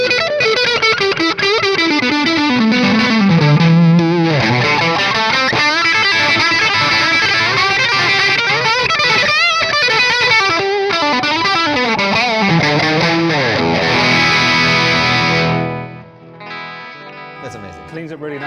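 Electric guitar played hard through an overdriven valve amp, a thick distorted run of notes and ringing chords with chorus-like shimmer, loud and close, ending with a brief gap and a few lighter plucked notes.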